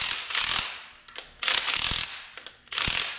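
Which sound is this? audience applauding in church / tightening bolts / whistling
tightening bolts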